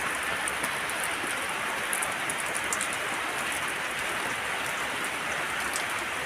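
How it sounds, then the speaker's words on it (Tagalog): Steady, heavy rainfall hissing across surfaces, constant and close throughout with no voices. "Yan po yung ulan."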